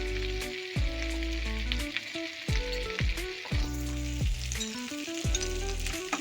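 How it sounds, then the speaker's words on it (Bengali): Raw banana and potato curry with salt being sautéed in a pan, a steady frying sizzle with repeated scraping strokes of stirring, close and continuous, with no talking. "এবার ভালো করে কষিয়ে নেব।"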